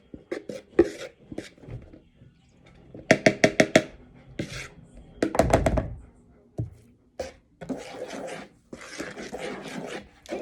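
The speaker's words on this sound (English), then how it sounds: "So you can just mix those ingredients quickly." Batter ingredients are mixed in a bowl for a Mother's Day brunch, making close scraping and rubbing strokes in quick rhythmic bursts that stop and start with short pauses between them.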